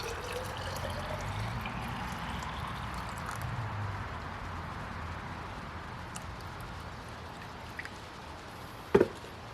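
Warm water poured into a plastic bottle trap with boric acid, a soft continuous trickle and splash that stays faint and steady, ending with a couple of brief knocks.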